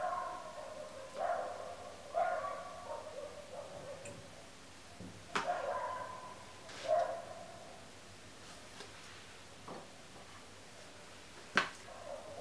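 A dog barks in a series of short, spaced-out woofs, several in a row with pauses between. The barks sound somewhat distant and fairly quiet against a soft background, with a few sharp ticks in between.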